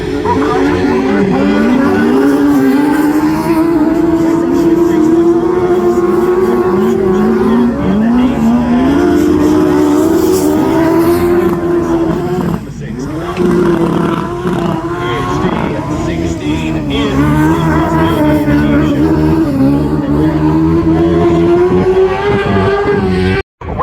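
Autograss Class 10 race cars roar around a dirt track at a national meeting, engines loud and continuous with rising and falling revs, tyres scrabbling, and a commentator talking over the racing.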